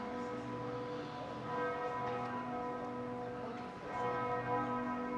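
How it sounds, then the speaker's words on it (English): A large church bell chimes in Graz, Austria, its rich sustained tone ringing steadily outdoors with overlapping strikes that swell and decay over several seconds, with no talking. "there's a bell chiming"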